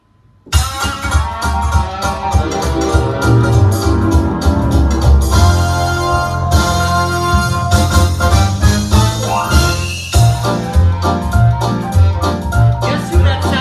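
A Williams Symphony Grand II digital piano plays its Movie Ragtime accompaniment style in B, a lively ragtime arrangement with stride-like bass and syncopated chords. It sounds loud, dense and continuous, and no one speaks.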